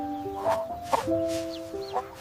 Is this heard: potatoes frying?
no